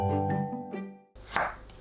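A knife cuts bellflower root (doraji) thinly on the diagonal on a board. A single crisp blade stroke lands partway through, after a stretch of tonal background sound.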